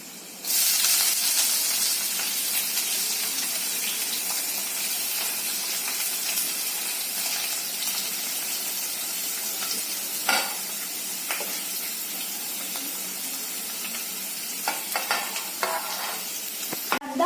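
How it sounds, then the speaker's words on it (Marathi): Onions frying and being stirred in a pan while making poha, a steady close sizzle and hiss running throughout with occasional scraping clinks of the spoon against the pan. "आता आपल्याला कांदे घालायचे आहेत"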